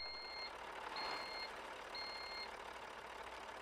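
A VW Titan truck in Euro Truck Simulator 2 gives steady reversing beeps, three evenly spaced tones over a low, constant engine drone, faint and without talk.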